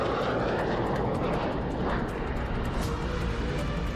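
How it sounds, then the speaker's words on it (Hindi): A Russian Tu-160 strategic bomber roars steadily overhead, a loud continuous broadband jet rumble that neither rises nor fades, with no voices over it. "रूस के ये ऐसे बम वर्षक विमान हैं जिनके जरिए रूस किसी भी देश पर परमाणु बम से हमला कर सकता है।"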